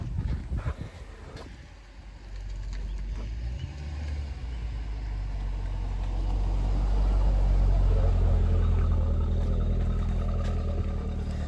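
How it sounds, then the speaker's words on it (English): A car, driven by the speaker's grandfather, approaches with a low engine rumble that builds steadily and grows louder as it nears, with some wind noise on the microphone. "There's a car coming."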